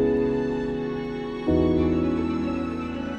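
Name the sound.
strings with filtering, compression, saturation and Spaced Out plugin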